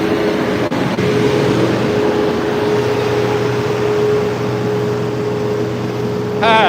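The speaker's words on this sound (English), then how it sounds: "oh, it's the trash truck." A garbage truck rumbles along a street in the Philippines with a steady, loud low engine drone and a faint whine, with a brief knock near the start and a louder burst at the end.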